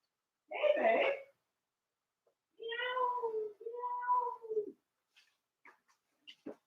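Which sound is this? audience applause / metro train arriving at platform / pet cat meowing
pet cat meowing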